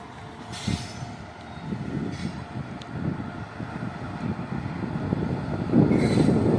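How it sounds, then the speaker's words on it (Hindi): The Patna Kota Express pulling into a platform at Jaunpur Junction, a steady low rumble and rattle of rolling wagons that grows gradually louder, with faint brief squeals above it. "कौन सी ये ट्रेन है जो प्लेटफॉर्म नंबर 2 पर आ रही है।"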